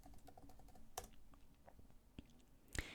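Quiet typing on a computer keyboard while entering a search in a web app, a quick irregular patter of soft key clicks with a couple of sharper taps near the end.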